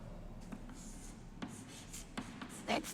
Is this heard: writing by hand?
yes